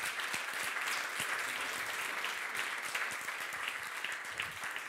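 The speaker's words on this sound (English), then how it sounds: "big round of applause to our amazing partners" Audience at a startup demo day gives a sustained round of applause for partners, a dense, steady wash of clapping that fills the whole stretch at an even, fairly loud level with no voices on top.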